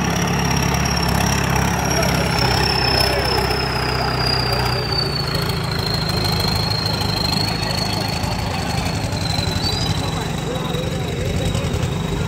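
A tractor engine runs steadily nearby with a low rumbling drone at a harrow competition, while a voice talks over it.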